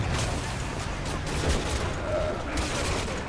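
Sustained gunfire in the Resident Evil 6 video game rattles steadily through a noisy battle bed, fairly loud throughout with no clear pauses.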